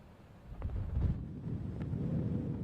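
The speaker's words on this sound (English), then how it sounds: "Strong winds and messy waves ruining a Florida beach day." Strong gusts of about 30 mph whip across a Florida ocean beach with rough, messy surf, a steady low roar of wind buffeting the microphone that swells and holds throughout, with no voices.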